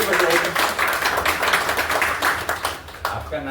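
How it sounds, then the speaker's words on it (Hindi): A group at a company weekly meeting at an ayurvedic centre breaks into steady, fairly loud hand clapping. The applause runs throughout, with a voice talking over it. "ताली बजाइए।"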